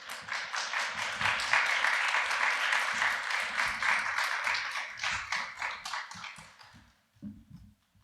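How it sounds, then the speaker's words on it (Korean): A church congregation applauds to welcome a film director onstage: loud, dense, sustained clapping that fades out near the end, followed by a few stray sounds. "우리 감독님 나오실 때 박수로 환영해 주시기 바랍니다"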